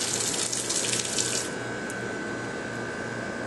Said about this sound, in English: You will get water coming out the hose, which can be adjusted.